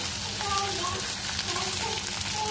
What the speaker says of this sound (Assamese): আলু আৰু গাজৰখিনি অকণমান ভাজি কৰি লৈছোঁ